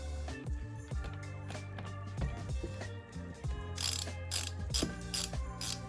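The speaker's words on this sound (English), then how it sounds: "Now with your 8, tighten up this hose clamp." A ratchet wrench with an 8 mm socket tightening a hose clamp on a car's cold air intake, a Mk7 Volkswagen, clicking in quick, close, repeated bursts with short pauses between strokes.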